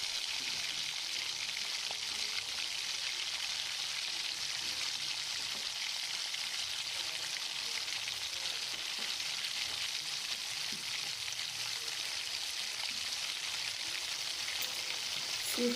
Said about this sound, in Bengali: এখন চিপসগুলোকে তেলে ভেজে নিব।